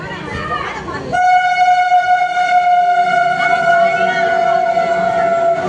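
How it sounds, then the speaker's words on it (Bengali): A passing through train sounds a loud, sustained multi-tone horn that blares steadily close by, rising over rumbling rail noise. Voices chatter just before the horn starts. "থ্রু ট্রেন এটা"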